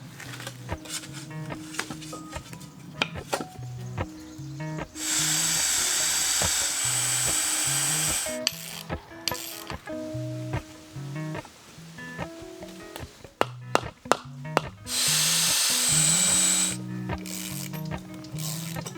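A power drill boring into a wooden post for a small cabin build, with long whining bursts of bit cutting through wood between clicking, ratcheting handling sounds and shifting motor pitches, close and loud.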